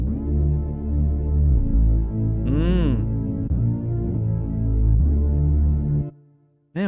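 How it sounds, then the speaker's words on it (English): A lush synth pad from Serum sustains thick layered chords through a K-pop style production, its bright harmonic tones swelling and shifting for several seconds before cutting off abruptly near the end. "This is a pad sound."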